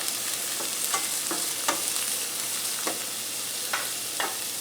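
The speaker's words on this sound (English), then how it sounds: "Let's saute these down for several minutes." Chopped onions sauté in olive oil in a hot pan for a turkey and olive pasta, a steady bright sizzle broken by sharp scraping stirs of a utensil, close and without voices.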